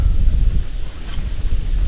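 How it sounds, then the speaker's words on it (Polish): Strong wind buffets the microphone with a steady low roar and rumbling gusts, loud and close, with no other sounds. "Jest potężny wiatr dzisiaj."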